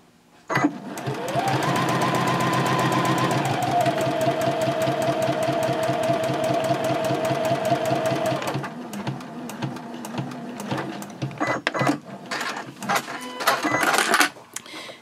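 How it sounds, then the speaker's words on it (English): A sewing machine stitches a seam on a reversible drawstring gift bag, running at a loud, steady whirring clatter for several seconds, then pausing into scattered clicks and short bursts of stitching. "Then I'll pivot, and then I'll sew to the end of the line."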